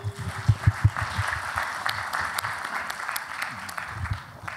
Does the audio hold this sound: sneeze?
no